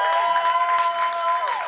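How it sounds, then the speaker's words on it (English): A short burst of audience applause at a climate week panel for a co-founder named Bernard Pollock, brief and fairly dense, with a steady tone ringing underneath. "Round of applause, please"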